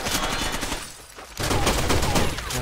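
Gunfire in Rainbow Six Vegas 2, loud rapid bursts of automatic shots with a brief lull midway before a dense volley resumes.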